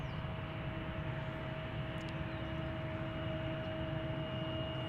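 An American Airlines Boeing 787 Dreamliner taxis out at Dallas Fort Worth airport, a faint, distant, steady jet engine whine and rumble that holds evenly throughout with no voices.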